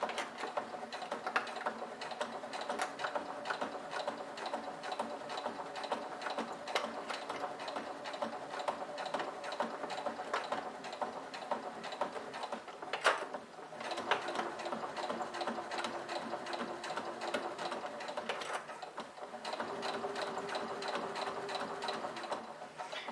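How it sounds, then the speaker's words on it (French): A sewing machine runs fairly quietly and steadily, stitching fabric and piping for a small bowling-style bag, with a brief break partway through and no talking. "Je vais coudre comme ça jusqu'à arriver ici."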